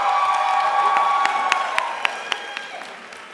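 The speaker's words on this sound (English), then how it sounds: "applaud as much as you want for every single student" Crowd at a Pine Manor College commencement applauds a graduating student, a broad wash of clapping and cheering with a few sharper claps standing out as it slowly fades.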